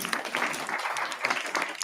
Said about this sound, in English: Can you get a round of applause, please?